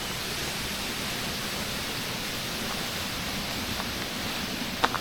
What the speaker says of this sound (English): Already hear the water below us.